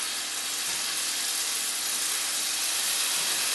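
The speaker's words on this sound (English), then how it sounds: "You can hear the sizzle." Tandoori chicken pieces sizzle in a hot pan, a steady, loud, close hiss that holds without letup from start to finish, with no talking.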